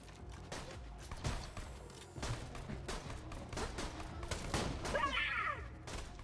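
SMG gunfire in Borderlands, short bursts of shots spread across a busy game mix with a brighter rattling burst near the end, mid-level and dense.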